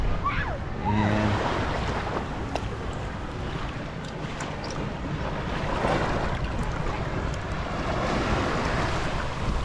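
Waves wash onto a beach after a spearfishing dive, a steady roar of surf mixed with wind buffeting the microphone, continuous and close, with a voice speaking briefly near the start.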